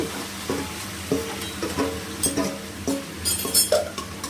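Chicken frying in a pan for biryani, a steady sizzle broken by repeated stirring scrapes and light clinks of a utensil against the pan, close and fairly quiet, with no talking.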